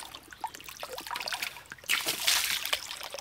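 Water spurts and splashes from the outlet of a hydraulic ram pump fed by creek water, a steady hissing trickle that grows louder and more forceful partway through.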